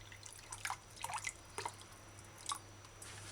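Water is measured and poured for cooking rice and peas, heard as faint, scattered drips and splashes over a low hum.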